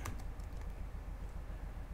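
Computer keyboard typing, a quick continuous patter of soft key taps, close and fairly even, heard alone over a low hum.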